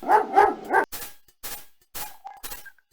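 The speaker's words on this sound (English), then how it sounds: "A bully of a dog terrorizes the poor ants as he playfully digs at their large anthill" A dog in the King's Quest 5 video game barks three times in quick succession, loud and close, followed by scattered scraping bursts of digging at an anthill.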